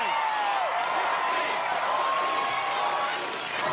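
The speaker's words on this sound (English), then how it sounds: "And the crowd chanting her name" Arena crowd at the American Ninja Warrior Cleveland finals chanting a competitor's name, a steady distant roar of voices and cheering with a faint whistle sliding across, continuous with no pauses.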